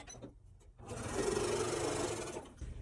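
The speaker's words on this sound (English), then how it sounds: "we're going to sew this top bow row together along with these background triangles" A sewing machine runs a short burst of stitching, joining quilt table runner pieces, a bow row and background triangles, with a quiet start-up, a steady whirring run, then a stop.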